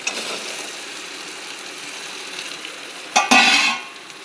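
Whole pointed gourds (potol) dropped into hot oil already browned in the pan: a quiet steady hiss, then a sudden loud sizzling burst that fades after about half a second.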